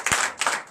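A church congregation claps in acclamation during a Sunday service in Comè, Benin, with a few sharp close claps, uneven and brief.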